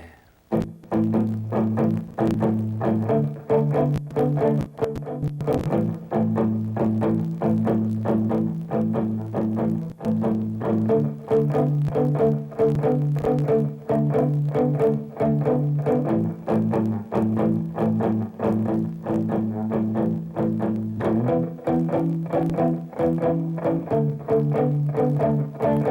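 Electric guitar strums a distorted rock chord progression in steady, loud rhythm, chords changing every few beats over about twenty-five seconds with no talking.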